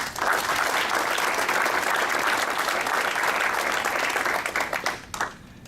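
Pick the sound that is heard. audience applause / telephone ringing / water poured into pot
audience applause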